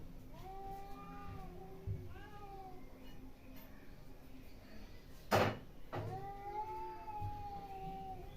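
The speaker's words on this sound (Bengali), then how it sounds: "বেড়াল ডাকছে" A cat meows repeatedly in a home kitchen, several drawn-out calls spread across the clip, fairly close, with a brief knock or door-like bump partway through.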